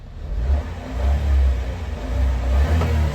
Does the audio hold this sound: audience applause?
no